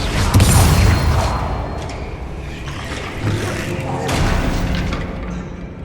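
A Confringo blasting spell goes off in Hogwarts Legacy, a loud booming explosion up front that rumbles on and swells again as game sounds and spoken voices carry on around it.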